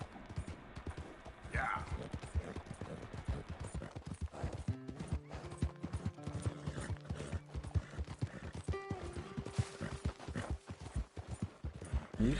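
Horse hooves clip-clop steadily in Red Dead Redemption 2 while a rider tames a horse in the mountains, with a brief neigh and mechanical clinks; the steps are fairly close and moderately loud, and faint talking runs beneath.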